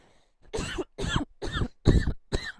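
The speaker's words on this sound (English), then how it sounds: "excuse me, I have to cough." Five loud, close coughs in a row, each a harsh burst separated by short pauses, with no talking.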